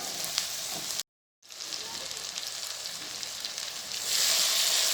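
Garlic and ginger browning in desi ghee give a continuous, close hiss and crackle. The sound drops out briefly near the start, then returns and swells louder toward the end, with no talk.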